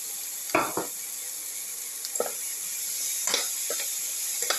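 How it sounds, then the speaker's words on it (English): Tomato pieces saute in a hot pan for a potato tomato rice dish, giving a steady soft sizzle broken by several short scraping stirs of a spatula against the pan. "Keep on sauteing. Put in the tomato pieces."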